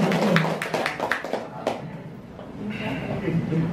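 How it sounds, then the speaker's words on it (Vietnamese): Audience hands clapping in a Zen Buddhist dharma talk hall, a burst of brisk claps up front that thins into scattered taps, then a softer murmur of room noise and faint talk. "Xin quý vị có đắc ý như tôi thì vỗ tay đây."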